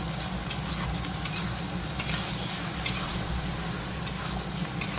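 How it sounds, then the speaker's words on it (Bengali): Tomato fry mixture being stirred for chow mein, a steady sizzling bed broken by sharp utensil scrapes and clinks against the pan every second or so, close and alone with no talk. "সব কিছু দিয়ে এখন মিক্স করে নিই।"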